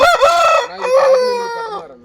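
A single loud, close crow from a Tamil Nadu-line rooster, rising and then trailing off over about two seconds.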